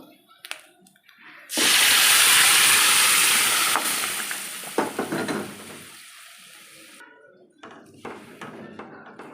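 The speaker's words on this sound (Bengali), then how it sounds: "মশলাটা হয়ে গেছে আমার এবার ডালটা ঢেলে দেবো" Moong dal poured into a hot pan of spice mix with sugar lets out a sudden loud burst of sizzling hiss that gradually fades and crackles down, followed by quieter clinks and rustles.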